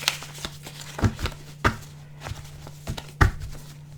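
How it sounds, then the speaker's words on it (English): A deck of tarot cards being cut and shuffled by hand, a series of separate soft taps, slaps and papery riffles close up, irregularly spaced, with no speech. "Let's cut this deck."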